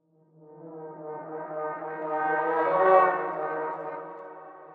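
A bright, brassy foghorn synth patch pitch-shifted up an octave, with a thick, foghorn-like timbre, swells slowly to a peak and then fades, sustained alone for several seconds.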